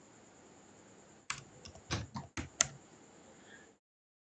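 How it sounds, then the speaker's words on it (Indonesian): Typing on a computer keyboard in Microsoft Word, a few quick clicks and key presses in an uneven burst, close and quiet, with no talk. "Setelah itu kita ketik nomor."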